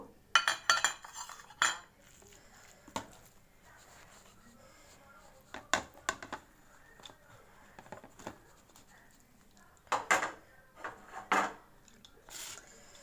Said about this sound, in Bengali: আমি এবার এটা একসঙ্গে মেখে নেব।